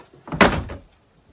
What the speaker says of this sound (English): And we'll see if this door closes